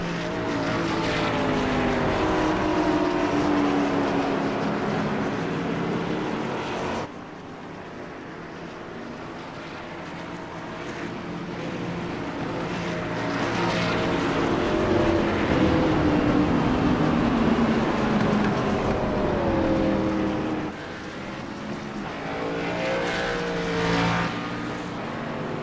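Race cars circling an oval track behind a pace car at a night race, a continuous loud engine roar that swells and fades as the field passes, with no talk over it.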